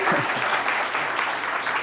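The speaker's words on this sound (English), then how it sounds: "give a round of applause to Lola" Applause from an audience at a business event for Elena and Lola, a steady, moderately loud wash of clapping with a faint voice at the very start.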